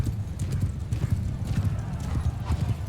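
Cavalry horses in Mount & Blade II: Bannerlord charge with rapid, loud clip-clopping hoofbeats and occasional whinnies, a dense galloping rumble throughout.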